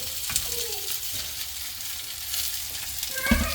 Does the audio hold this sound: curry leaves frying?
yes